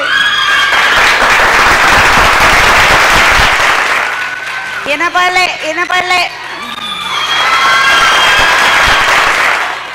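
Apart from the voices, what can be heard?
audience clapping at a women's day celebration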